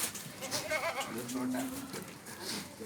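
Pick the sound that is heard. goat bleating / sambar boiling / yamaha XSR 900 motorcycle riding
goat bleating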